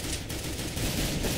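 Rapid gunfire in CS:GO during a competitive match, a dense continuous volley of shots filling the whole moment at steady loudness with no pauses.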